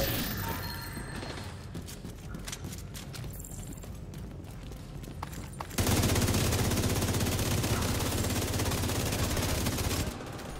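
Rapid, sustained gunfire bursts into a continuous loud rattle after a stretch of clattering background noise, automatic weapons in the video game The Division.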